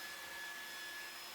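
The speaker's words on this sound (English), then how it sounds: "God damn you and your blow dryer." A handheld blow dryer runs on someone's hair, a steady, close, loud broadband whoosh of fan and airflow holding level without pause.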